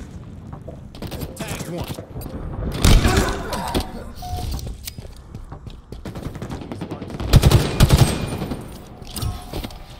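Video game gunfire from a multiplayer shooter: bursts of rapid automatic shots and explosive cracks, loudest around the third and eighth seconds, with a player's voice briefly heard over the firefight.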